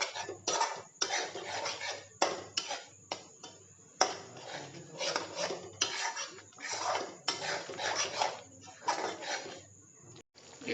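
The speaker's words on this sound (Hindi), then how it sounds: "दही को हम चलाते रहना है," A utensil stirring yogurt into cooked masala in a pan for arbi curry, making repeated scraping and clinking strokes against the metal in bursts, fairly close and moderately loud.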